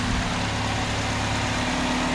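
2008 Saturn Aura 2.4 liter engine idling, a steady low hum with a constant droning tone, close and continuous with no talk.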